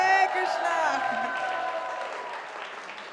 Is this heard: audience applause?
yes